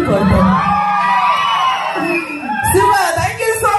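Audience at an Ugadi puraskaralu awards ceremony in Sri Vijaypuram (Port Blair), Andaman, cheers, whoops and whistles. The crowd noise is loud and close, with a brief lull before rising again near the end.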